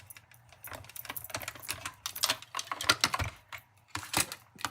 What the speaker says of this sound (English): And we'll just run those through. And this is the last thing we're going to die cut.